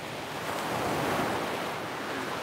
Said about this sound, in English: Let's soak in the colors, the sounds of the waves